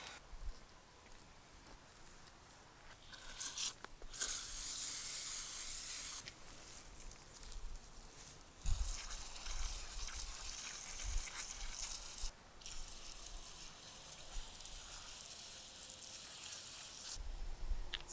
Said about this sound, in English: Let's go hose it off.